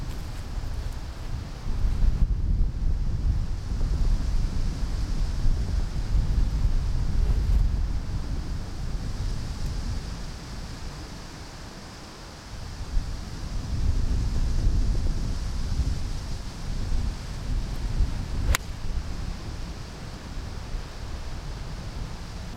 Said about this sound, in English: it's getting a little bit windy